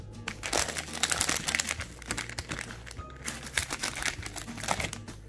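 Blind box packaging being cut open by hand, close crinkling and crackling plastic with quick snips and rustles over a steady low hum, no talk.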